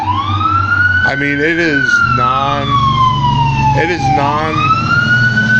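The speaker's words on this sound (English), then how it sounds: "So many sirens come through my neighborhood." Emergency vehicle sirens wail through a neighborhood street, a loud wavering tone sweeping up and down continuously over a low engine rumble, while someone talks over it.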